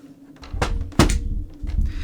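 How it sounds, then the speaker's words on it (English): Loose parts rattling inside a handled game console, a few close hollow thunks and knocks as it is tipped and shaken, in quick irregular bursts. "There's stuff rattling around the inside of it."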